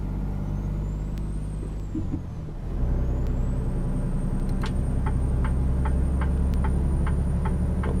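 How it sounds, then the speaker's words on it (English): A truck rumbles nearby in American Truck Simulator, a steady low engine drone with a hiss of air brakes partway through and a rapid ticking turn signal repeating through the second half. "That is a truck coming, but they're giving me room to get on."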